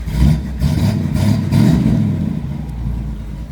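A 1939 Chevy hotrod pickup with a 350 engine revs with a deep, steady rumble up close, swelling and easing over a few seconds with no talk.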